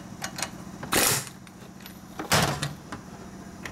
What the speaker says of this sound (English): let's go ahead and pull this off with the zip gun